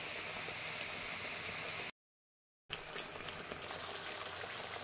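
Mustard masala spice paste frying in oil for an Odia potato badi dish, a steady close bubbling sizzle and hiss that cuts out briefly before resuming.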